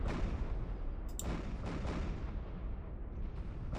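Carrier ship blowing up in the space strategy game Homeworld 2, a sustained heavy explosive rumble with scattered sharp bursts of weapon fire, loud and continuous throughout.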